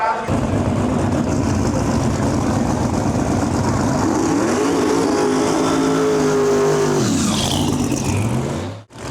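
Drag racing cars at the True 10.5 event, engines roaring loud and continuous as they accelerate down the strip, with a rising whine in the middle, before the sound cuts off abruptly near the end.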